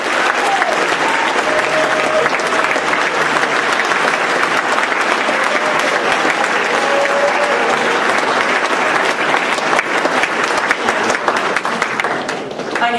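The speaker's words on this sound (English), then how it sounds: "If I could get another big round of applause for Mr." Loud, sustained audience applause after a speech at a school sports banquet, dense clapping from a full room that stays steady for the whole stretch, with faint voices mixed in underneath.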